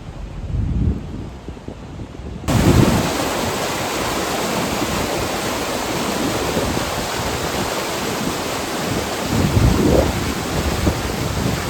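The fast-flowing Uhl river near Barot rushes in a loud, steady, dense roar that continues without a break from close by.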